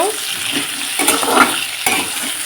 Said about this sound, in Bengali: আর এদিকে আমার সবজিটাই যে অনেকটাই ভাজা হয়ে এসছে, দেখতেই পাচ্ছ।